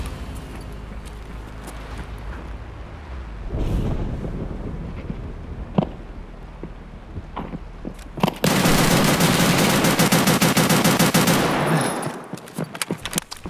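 Escape from Tarkov game gunfire firing PP ammo: scattered single shots early, then a loud, sustained burst of rapid automatic fire lasting several seconds before cutting off, heard close and with no talking.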